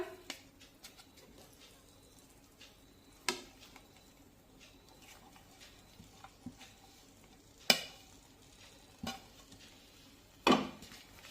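Fenugreek leaves being stirred into peas in tomato gravy, quiet intermittent scraping and occasional sharp clinks of a spoon against the pan over a faint background.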